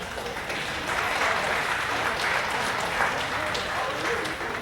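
An audience claps steadily throughout a colt-starting clinic session, a dense, continuous patter of many hands that holds at an even level for several seconds.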